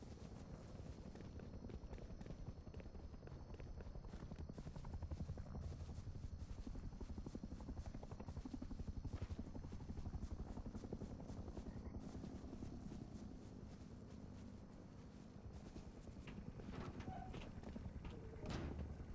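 Helicopter flying in the survival video game Rust, a faint, continuous rotor thrum with a rapid chopping pulse that lingers in the background, mixed with scattered footstep-like clatter.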